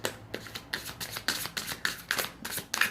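Tarot cards shuffle close by in quick riffling bursts with a soft papery flutter. No voice is heard.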